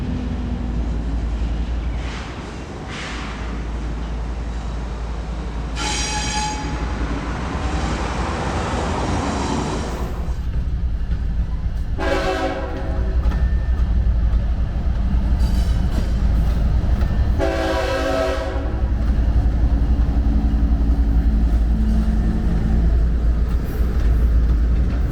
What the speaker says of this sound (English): the three Union Pacifics we saw earlier can now back into and connect to their new train.